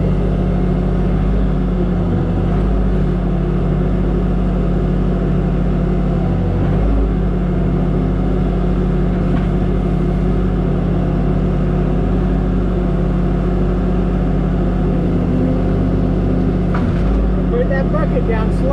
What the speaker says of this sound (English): Now bring the bobcat or skid steer back.